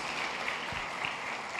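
A church congregation applauding, a dense, steady wash of clapping from many hands filling the room for a brief moment without speech.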